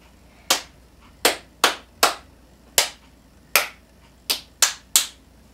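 Nine sharp, close hand claps from a music teacher setting out a rhythm for a student to imitate, spaced in a lilting pattern with a short quick pair near the end, clear against a quiet room.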